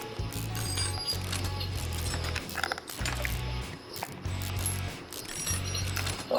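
In the Car Mechanic Simulator video game, a ratchet removes car parts near the drive shaft with steady, repeated mechanical clicking and whirring in pulsing bursts over a constant background.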